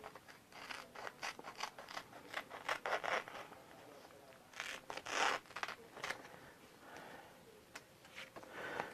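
Scissors snip through a transfer sheet in a quick series of close, crisp cuts with short pauses between bursts, along with light rustling of the sheet.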